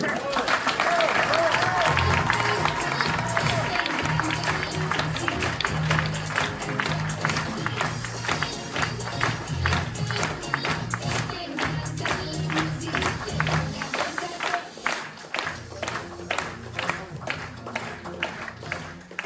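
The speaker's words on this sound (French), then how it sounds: "J'aimerais qu'on l'applaudisse s'il vous plaît, Monsieur Rocco." Applause from a show audience honouring a man named Rocco at a Corsican stage spectacle, sharp claps in a loose rhythm over music with a pulsing low beat that drops out near the end, voices mixed in.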